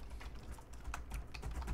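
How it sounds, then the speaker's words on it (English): Someone types on a computer keyboard: a short, quiet run of quick clicking keystrokes with uneven spacing over low room noise. "Typing."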